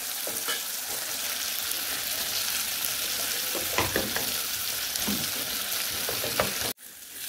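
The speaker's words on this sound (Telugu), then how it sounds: "ఇలానే పసుపును కూడా ఫ్రై చేసుకోండి." Turmeric and salt fry in oil alongside onions, producing a dense, even sizzle with occasional spits and pops that cuts off abruptly near the end; no one speaks.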